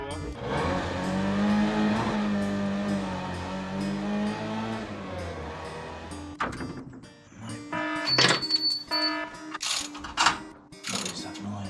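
A car engine running rough with two cylinders down, oil spilled in the boot, rumbles and rattles steadily inside the car, then gives way to uneven clunks, squeaks and bursts of road noise.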